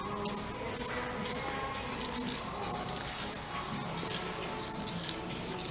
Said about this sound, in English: So we're using this etch primer. We're just going to get some primer on the panel.